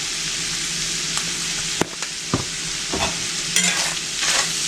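A spoon stirring a garlic bread seasoning mix of onion powder and garlic powder, with a few distinct scrapes and clinks against the bowl over a steady background hiss, no talking.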